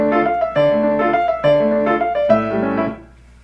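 Solo piano plays the original theme of Beethoven's Tempest Sonata: four sustained, resonant phrases with rolled chords and a clear upper melody, moderately loud and alone, fading out at the end.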